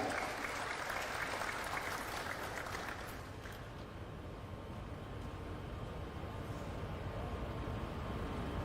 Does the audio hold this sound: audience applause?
yes